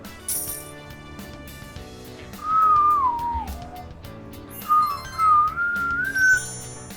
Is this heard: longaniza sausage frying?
no